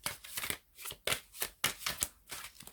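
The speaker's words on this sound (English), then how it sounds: "Sorry guys, the cards are very big. I usually use smaller cards to shuffle." Oversized tarot cards being shuffled by hand during a card reading, a series of crisp riffling bursts roughly every half second, close and fairly loud with no talking.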